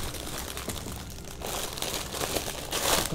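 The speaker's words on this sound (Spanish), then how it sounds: "este plástico hace muchísimo ruido" Plastic wrapping around a boxed Marvel Movie Collection figure crinkles and crunches as it is unpacked, close and fairly quiet, a steady rustle without speech.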